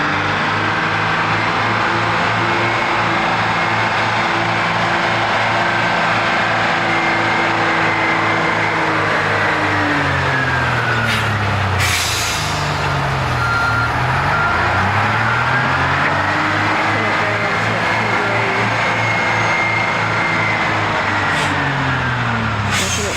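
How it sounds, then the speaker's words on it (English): A heavy truck engine labours up a hill continuously, with its pitch rising and falling as it works, and a brief high beep near the middle. "Comes the back truck up the hill"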